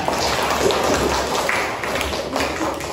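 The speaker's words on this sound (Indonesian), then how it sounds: "Tepuk tangan buat teman-teman yang sudah bertanya" Elementary classroom pupils clapping for classmates who asked questions, a busy, steady patter of many hands tapping together at moderate loudness, with little talk.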